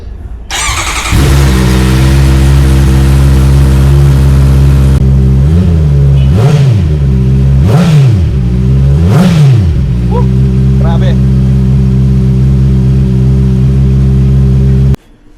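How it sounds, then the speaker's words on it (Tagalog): A 2026 Honda CB650R motorcycle engine starts up close and loud, settles into a steady idle, then rises and falls through three sharp revs before dropping back to idle and cutting off. "pakinggan natin kung paano ba tumunog si CB650R"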